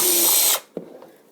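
A power drill bores wire holes into the body of an Axial SCX10 RC car, a loud whine lasting about half a second that cuts off abruptly, then a few faint clicks and handling knocks.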